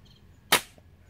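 A single sharp, snappy shot from a Diana TrailScout 4.5 mm CO2 air rifle firing a diabolo pellet cracks once, short and fairly close, over quiet background.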